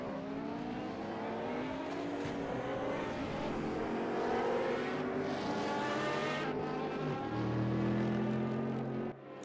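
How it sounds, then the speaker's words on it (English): A race car on the Monza circuit in a multi-class sim race slows down, its engine note droning and gradually dropping in pitch, with other engine sounds overlapping in a continuous, moderately loud roar. "So it looks like that car is slowing further and further down."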